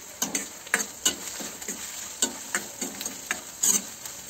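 Finely chopped onion and bay leaf sizzle in a hot pan, with a steady low frying hiss broken by repeated scraping stir strokes at an uneven rhythm, close and moderately loud.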